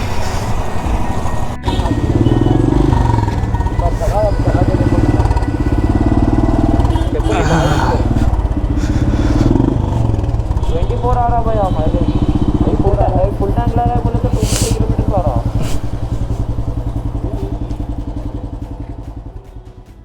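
A motorcycle with a fault rides on a road in Jaipur, its engine droning loudly and steadily with wind and rumble, voices mixed in, before fading slightly at the end.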